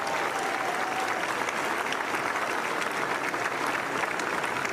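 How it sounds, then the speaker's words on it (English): Crowd applause at the championship ceremony of the Mubadala DC Open tennis tournament in Washington DC: a continuous, even wash of clapping from a large audience, steady and fairly loud throughout. "please give them a huge round of applause"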